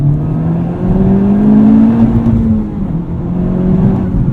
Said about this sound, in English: Nice little rev limiter there.